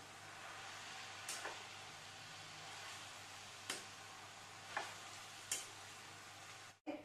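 Dill and fenugreek greens are stirred in a sizzling pan, a steady frying hiss broken by a few crisp spatula scrapes, close and fairly soft, with a brief dropout near the end.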